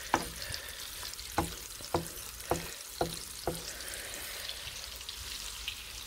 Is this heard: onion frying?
yes